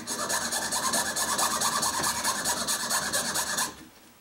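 Mother-of-pearl for a guitar inlay is cut by hand with rapid, rhythmic rasping saw strokes, close and fairly loud, steady for several seconds before stopping abruptly.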